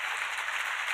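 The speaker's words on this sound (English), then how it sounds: "a huge round of applause" Brief burst of audience applause at a statewide venture competition awards event, a steady hiss of many hands clapping for about a second.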